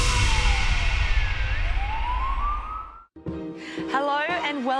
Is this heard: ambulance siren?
yes